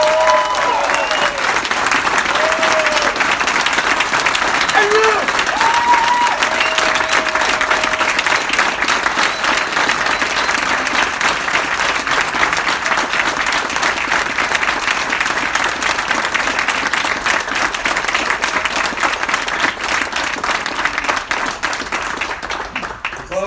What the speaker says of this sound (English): it's them, not me, that deserve the loudest applause of the night